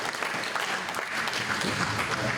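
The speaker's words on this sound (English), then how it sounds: "Now let's clap." An audience at a baseball hall of fame induction ceremony applauds, a dense, even wash of clapping from many hands throughout.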